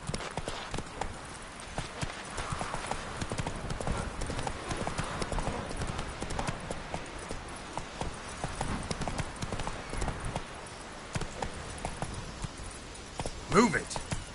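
A horse gallops in The Witcher 3 video game, its hooves producing a steady, rapid clip-clop throughout, with a voice speaking over it.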